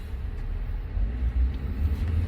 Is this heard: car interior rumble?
yes